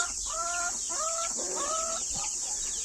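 A hen clucking among her chicks in a farmyard coop, several short rhythmic clucking phrases close by over a constant high chirping and cheeping from the young birds.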